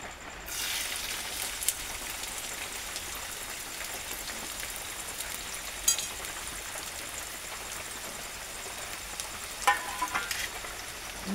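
Mustard seeds, cumin and onion fry in hot oil with a steady, fairly quiet sizzle, like light rain, with a few brief clinks and pops; close by and no talking.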